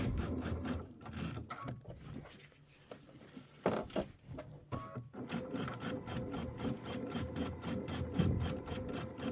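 A sewing machine stitches through a quilt in rapid, rhythmic bursts, with a short pause midway before the steady needle clatter resumes close and clear.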